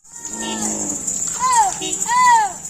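Kamori goats at a goat farm bleat in loud, wavering calls, two prominent cries close by over a busy background murmur of voices.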